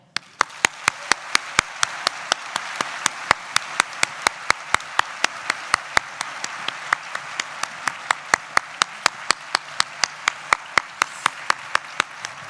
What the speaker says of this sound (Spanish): Recibamos con un gran aplauso